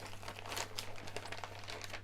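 Thin plastic bags crinkle and rustle in quick, irregular bursts at close range while fish is portioned for vacuum sealing, with a steady low hum underneath.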